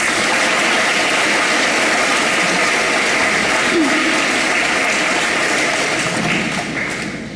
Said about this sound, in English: Chargers, let's give a round of applause to our veteran staff members.